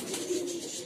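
A Black Modena pigeon, an imported rare breed, gives a single soft, low coo close by in a pigeon farm.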